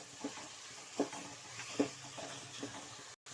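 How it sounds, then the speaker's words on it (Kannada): Ground garlic paste frying in oil for tomato biryani: a quiet, low sizzle punctuated by several soft scraping stirs spaced under a second apart, ending with a brief cut to silence. "ಇವಾಗ ಎಲ್ಲ ಒಂದ್ಸಲ ಎಣ್ಣೆಯಲ್ಲಿ ಫ್ರೈ ಮಾಡ್ಕೊಬೇಕು"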